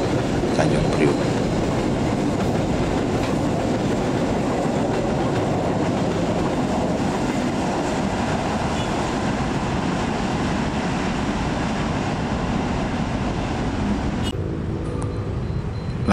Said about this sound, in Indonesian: ini ada kereta kontainer nih ya, yang dari arah Pasar Senen itu sudah masuk ke jalur 4